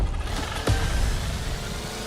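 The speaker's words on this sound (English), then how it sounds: "listen to the engine. That's awesome." An RC car engine revs in The Crew Motorfest video game, a steady close motor drone with one sharp burst of acceleration early on, then a sustained loud whine and no talking.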